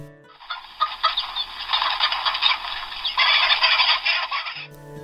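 Dense, continuous clucking and squawking from a flock of chickens, a sound effect in a model railroad sound catalog, loud and close, lasting several seconds with no talking.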